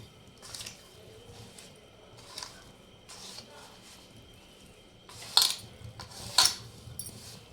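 A utensil stirs and mixes Indian gooseberry (amla) pickle in a container: quiet, repeated scraping and clinking strokes at a steady pace, with a couple of sharper clinks near the end.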